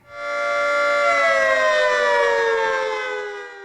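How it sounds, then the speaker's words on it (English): A civil defense warning siren wails steadily at full volume, a layered droning tone that swells in quickly and holds before easing off slightly, with no voices. "you can expect to hear warning sirens on Wednesday"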